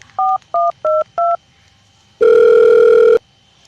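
Four short, evenly spaced telephone keypad tones beep in quick succession, followed after a pause by one longer, louder tone.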